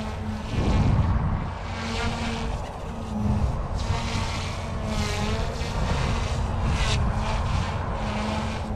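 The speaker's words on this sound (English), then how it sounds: "It is hands down the best micro helicopter that I have flown." Goosky S1 micro RC helicopter in flight, a continuous whirring rotor and motor whine that rises and falls in pitch as it maneuvers, close and steady without speech.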